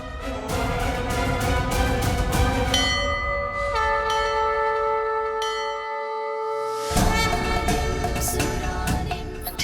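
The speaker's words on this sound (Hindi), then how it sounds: "मंदिर का घंटा" A temple bell rings out with bright, metallic, sustained tones, struck repeatedly and left ringing with long overlapping decays, loud and close without any talking.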